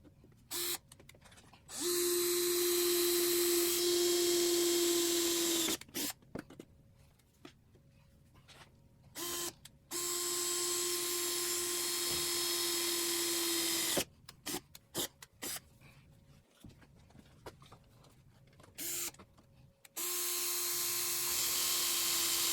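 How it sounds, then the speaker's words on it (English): Angle grinder with a cutoff wheel cutting into the metal cowl of a Jeep Cherokee XJ, a loud steady whine in three long bursts separated by short pauses and brief clicks, close by with no talking. "Then I'm going to get the cutoff wheel on the grinder and start cutting."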